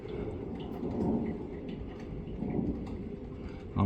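Low rumbling thunder rolls in from an approaching storm during a tornado warning, a steady deep grumble that swells twice and sounds fairly distant, with no talking.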